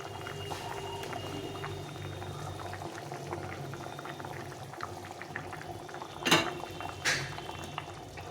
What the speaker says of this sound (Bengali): ঝোলটা ফুটে গেছে এখন মাছটা দিয়ে দেবো